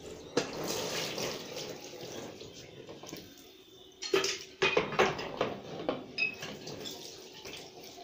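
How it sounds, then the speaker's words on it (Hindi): Water poured onto a screen printing frame, exposed without glass or foam: quiet trickling at first, then a burst of close, uneven splashes and drips in the second half, with no talking. "अब हम इस पे पानी डालेंगे और इसे एक्सपोज करेंगे"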